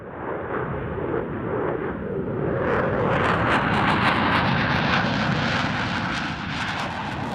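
An F-16 jet, among the oldest still flying, roars through an air show display, its loud engine noise swelling into a harsh, rushing blast as it passes close by, with no voices.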